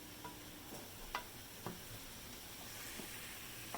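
Onion frying in a pan for bean burritos, a quiet steady sizzle with a few soft clicks of stirring, no talking.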